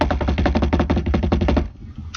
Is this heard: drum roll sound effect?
yes